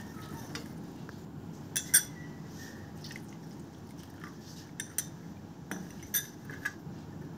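A spoon stirs a small mixture of turmeric and water for cooking fish, giving sparse light clinks and taps against a bowl over a soft steady background hiss.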